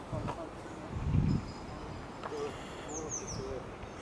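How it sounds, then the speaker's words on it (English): A barn owl calls faintly in the distance on the Norfolk Broads, with a few thin cries over a quiet outdoor background, a brief low rumble early on. "And the barn owl."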